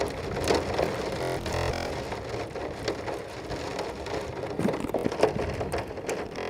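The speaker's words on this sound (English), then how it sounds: "It's a massive rainstorm as you can get outside." Heavy rain pours down outdoors in a massive storm, a dense, continuous hiss and patter of drops striking surfaces, loud and steady with no voices.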